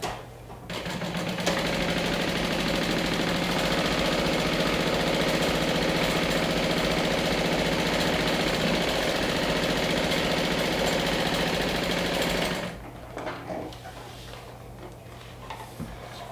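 A sewing machine stitches a wand holder in one long, steady run of close, buzzing mechanical whir lasting about eleven seconds. It then stops, leaving quiet handling sounds.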